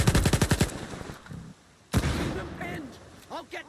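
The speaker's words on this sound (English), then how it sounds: "Nearby, I heard gunshots." Gunfire in S.T.A.L.K.E.R. 2 opens with a rapid automatic burst of about eight sharp shots, then a single loud crack follows, with game sounds and a voice afterward.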